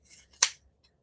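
Sharp scissors snip through a stack of six fabric layers in one quick, crisp cut, a single close slicing crunch with faint handling before and after.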